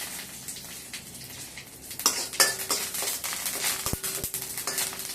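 Curry leaves dropped into a hot pan while tempering coriander coconut pachadi, with a soft hiss and crackle rising midway, a few sharp clinks of a utensil against the pan, and stirring scrapes.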